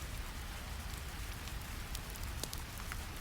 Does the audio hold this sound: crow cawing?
no